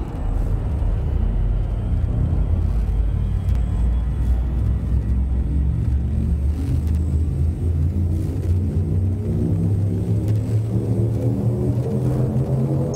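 A spaceship's frame shift drive charges up in Elite Dangerous. A loud, continuous low rumble swells and layers into rising tonal hums toward the end, with no talk.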